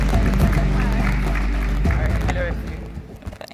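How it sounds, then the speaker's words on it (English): An audience claps for Ruth at a Girls in ICT event at the Transform Africa Summit in Victoria Falls, a dense, loud wash of applause that gradually thins and fades toward the end, with crowd noise mixed in. "A round of applause for Ruth."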